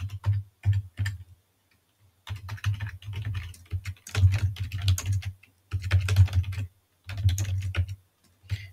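Someone types on a computer keyboard at a desk in bursts of rapid key clicks separated by short pauses, close and clear, with no talking.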